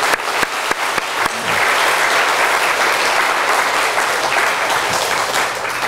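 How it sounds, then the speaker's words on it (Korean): A church congregation at a Parents' Day service breaks into sustained, dense applause, loud and even, preceded by a few scattered claps and continuing without talk. "박수 한번 하겠습니다."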